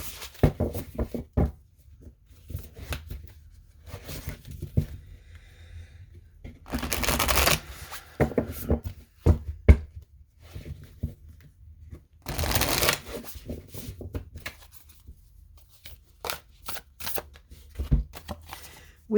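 A deck of oracle cards is shuffled close by, with repeated riffling bursts and soft taps in between, quiet and without talk.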